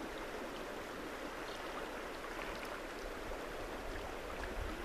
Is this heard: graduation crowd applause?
no